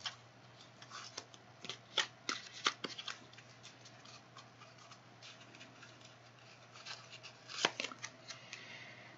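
Small tarot cards are shuffled and laid out on a table, giving a quiet scatter of close, soft clicks and slaps in irregular bursts over a faint steady hum.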